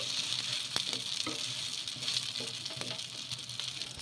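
A dosa made with roasted gram dal batter fries in plenty of oil on a pan, producing a steady close sizzle with a few light taps and scrapes.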